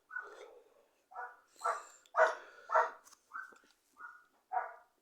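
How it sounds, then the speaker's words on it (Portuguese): A dog barks and yelps in a rapid series of about nine short, sharp calls with brief gaps between them, fairly close and alone. "o cachorro tá gritando"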